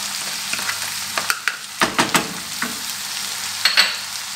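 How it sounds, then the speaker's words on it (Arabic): Ingredients sizzling and frying in a pan for a filo pastry filling, with a steady hiss and a few close stirring clatters, no talk. "كما كيطيبو كاع المكونات لي عندي على هذا الشكل"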